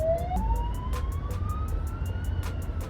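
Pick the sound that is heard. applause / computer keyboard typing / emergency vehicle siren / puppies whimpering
emergency vehicle siren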